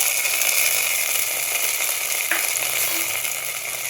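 An ingredient fries in a pan for sweet kalkandu rice, giving a steady, dense sizzle that stays close and constant throughout with a faint stir partway through.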